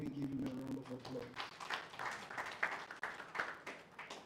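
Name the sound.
audience applause at a live event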